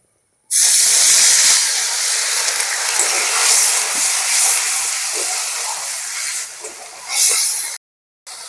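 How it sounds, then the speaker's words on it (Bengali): Turmeric frying in hot mustard oil for a shorshe ilish curry, giving a loud, steady, close hissing sizzle that holds for about seven seconds before cutting off abruptly. "এবার এটাকে 2 সেকেন্ড মতো ভেজে নেব।"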